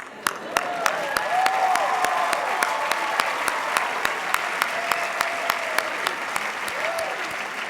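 Graduation audience at the 2015 Cushing Academy ceremony applauding: steady, dense clapping holding for several seconds, with a voice briefly rising over it.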